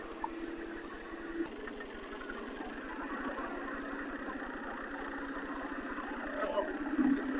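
The failing power steering pump of a 1998 Mercedes C230 gives a steady, strained whine over the low, constant hum of the idling engine, droning on without a break.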